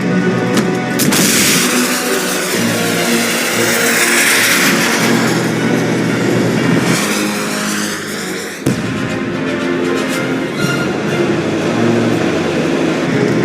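A car in Lost Horizon drives with a loud, sustained engine roar that swells as it revs and dips briefly before surging again.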